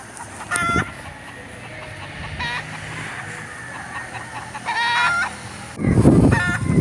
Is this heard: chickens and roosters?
yes